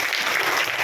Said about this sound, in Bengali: জোরে হাততালি এদের জন্য